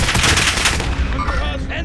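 Gunfire from Call of Duty on Rebirth Island comes as a dense burst of loud shots in quick succession, strongest in the first second and then trailing off over about two seconds.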